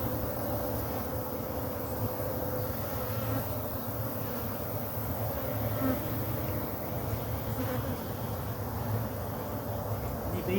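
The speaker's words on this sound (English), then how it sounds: "So I'll shake the bees off." A dense, steady buzz of many honeybees around an open hive, close by, continuous and loud throughout with no pauses.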